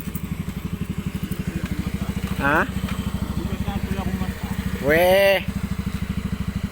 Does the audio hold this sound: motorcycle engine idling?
yes